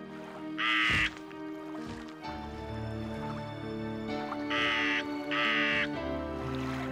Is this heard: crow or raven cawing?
yes